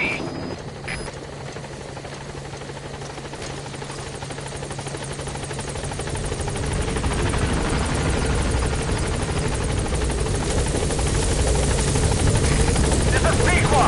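A helicopter arriving at a landing zone in the video game Metal Gear 5 gives a steady rotor drone that grows louder and fuller as it nears, a continuous close thrum with no distinct pauses.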